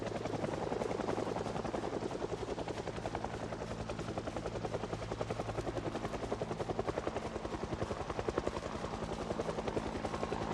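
A loud, close helicopter passes over in a video game, its rotor beating in a fast, even chop that holds steady for about ten seconds, with nothing else over it.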